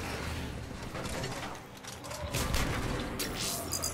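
Gunfire from a multiplayer match of the video game Mass Effect 3, a steady dense stream of shots and mechanical clatter at moderate level with no talk over it.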